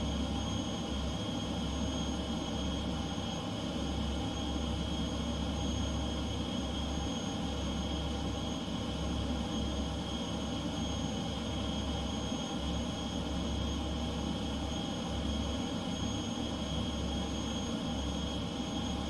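An F-15C jet engine in Microsoft Flight Simulator 2020 produces a steady, loud whine and roar near RAF Lakenheath, a constant drone with tonal hums and no break.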